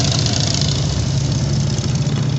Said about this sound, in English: When all these motorcycles and diesel vehicles are coming through.